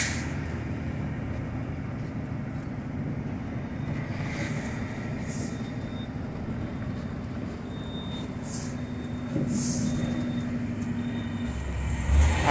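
A loaded VW Meteor 28-460 truck rolls along on engine braking, giving a low, continuous diesel drone inside the cab that stays fairly even and moderately loud, swelling slightly near the end.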